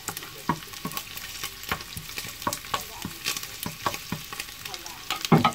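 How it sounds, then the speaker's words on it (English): Garlic sautés in a pan with golden-brown fried turkey, a quiet sizzle broken by frequent sharp clinks and scrapes of a utensil stirring close by. "next add garlic to saute"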